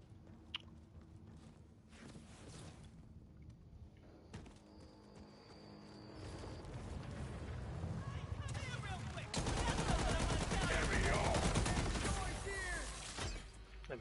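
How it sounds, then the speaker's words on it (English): A potato rocket launcher fires in Borderlands 4, sending scattered bangs and thuds through busy game action that builds into a loud, sustained barrage of blasts and explosions near the end. "Shoot a bunch of potato rockets everywhere."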